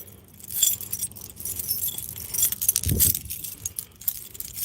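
Metal keys jangle and clink on a ring while someone searches for the right one to start an old truck in a backyard; close, bright rattling in irregular bursts with a brief thud near the middle.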